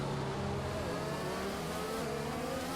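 A McLaren Formula 1 car engine in the F1 2021 video game accelerates with DRS open on the Wellington Straight at Silverstone. It gives a steady, loud, high-pitched rising whine that continues unbroken for the whole clip.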